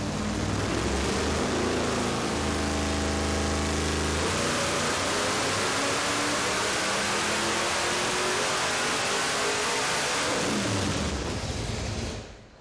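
A 1970 Dodge Super Bee muscle car engine revs hard on a dyno up to 7,000 RPM, a loud sustained rising roar with a climbing tone that holds, then cuts off near the end.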